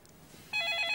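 A telephone rings in a quiet home, with a single bright electronic ring cutting in abruptly and holding steady after a near-silent moment.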